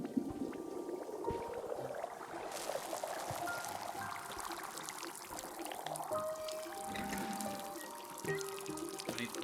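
Liquid is poured in the video game Wanderstop, a continuous trickling stream with bubbling, boiling-like texture, accompanied by soft chimes and tonal game sounds in the background.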